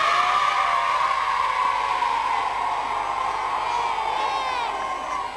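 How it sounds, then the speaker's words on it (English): Stone supporters cheer and whoop loudly at a school sports event, a sustained crowd roar with high children's shouts running steadily throughout, slightly fading toward the end. "the Stone supporters who are cheering their heads off"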